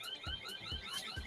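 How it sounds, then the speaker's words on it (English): An electronic alarm at a house gate sounds close and insistent, a repeating warbling tone cycling rapidly with regular low pulses underneath, with no speech over it. "Is that your alarm?"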